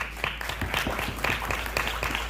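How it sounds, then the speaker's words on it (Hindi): An indoor meeting audience gives a short burst of scattered clapping, moderately loud and uneven. "मनीष भाई के लिए भी तालियां जोरदार।"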